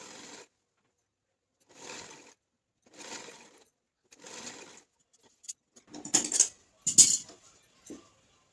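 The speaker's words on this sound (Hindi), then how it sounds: "यहाँ पे हमने इसकी स्टिचिंग कर लेनी है" A sewing machine stitches lace onto a chiffon frock for a ten-year-old girl. It runs in four short, even bursts separated by pauses, followed by a few sharper clinks and scrapes. There is no talking.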